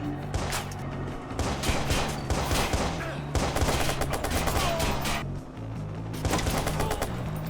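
Gunfire in the Watch Dogs video game: loud, sustained bursts of rapid shots in several waves with brief lulls between them, close and dominant.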